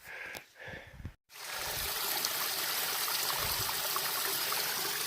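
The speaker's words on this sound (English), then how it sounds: "the mountain is just oozing with water everywhere. I don't mind crossing these little things." Mountain stream running across a rain-soaked hiking trail on the Appalachian Trail, a steady close trickle and burble of water following a brief rustle at the start.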